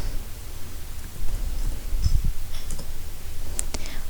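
A few keystrokes typing a command on a computer keyboard in a Linux terminal, sharp light clicks clustered near the end over a steady hissy background.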